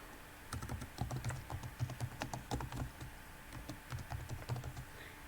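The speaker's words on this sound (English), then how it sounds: "I'm going to type the subject" Fingers typing on a computer keyboard in quick, uneven bursts of clicking keystrokes, close and steady with a faint background hum.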